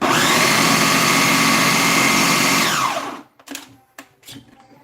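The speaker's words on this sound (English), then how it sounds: "you can just leave the blender on, but for the first few pumps, you got to just take it slowly" A kitchen blender whirs loudly for about three seconds while blending carrot ginger soup, with a falling pitch as it spins down. Several short knocks and clunks follow.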